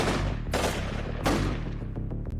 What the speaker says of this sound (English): I heard gunshots.